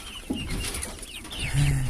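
Roosters cluck and murmur inside a cage on a backyard poultry farm. Several short, close calls overlap, and a louder stretch of clucking comes near the end.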